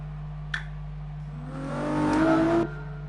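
A Formula 1-style V8 race car in a racing video game revs up, engine pitch climbing over about a second to a loud peak, then cutting off abruptly, with a short blip just before.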